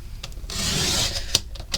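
Planner paper is cut on a paper trimmer, a single short sliding rasp of the blade followed by a few small clicks and taps, close and clear.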